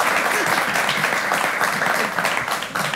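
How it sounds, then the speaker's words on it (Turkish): Studio audience applause for a contestant on a Turkish game show fills three seconds with dense, loud, continuous clapping close at hand, with a little voice mixed underneath. "Çok bir alkış hanımefendiye."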